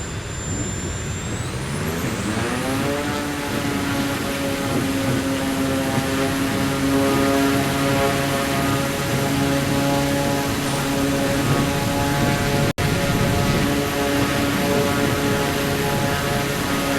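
Propeller airplane engine in Microsoft Flight Simulator 2024 near the Grand Canyon, spooling up in pitch during the first few seconds and then droning steadily and loudly, with one brief click partway through.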